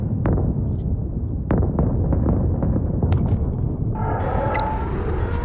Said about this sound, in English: It went from the slowest explosion to all of a sudden.